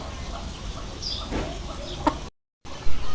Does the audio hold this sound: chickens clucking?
yes